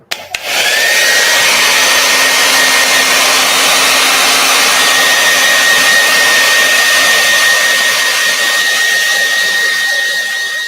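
A hair dryer drying a damp, glossy art piece roars steadily and loudly after a quick click on, a constant airy whoosh with a faint whine that holds alone throughout.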